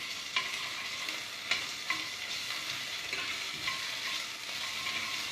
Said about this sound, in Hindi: इसको भून लीजिए अच्छे से।